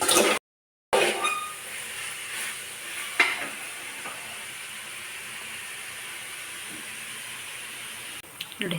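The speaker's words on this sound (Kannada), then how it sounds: "ಈಗ ಲಟ್ಟಿಸಿ ಹೂರ್ಣ ಹಾಕಿ ಎಣ್ಣೆಯಲ್ಲಿ ಬಿಡಬೇಕು" Wheat-flour dough filled with sweet stuffing is dropped into hot oil, setting off a steady fizzing sizzle of frying with a few soft clinks and splashes, after a brief moment of silence near the start.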